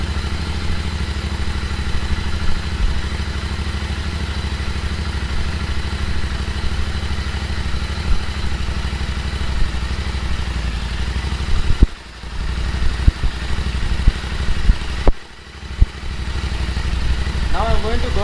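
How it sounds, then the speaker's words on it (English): Royal Enfield Interceptor GT 650 twin idling through an AEW TE102 stainless megaphone exhaust, a steady close-up thrum with brief dips and light clatter, running continuously with no speech. "this is how the bike sounds at idle"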